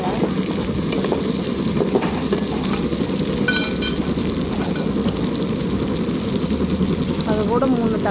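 Shallots, garlic, dried red chillies and curry leaves sauté in hot oil, giving a steady close sizzle with stirring scrapes throughout.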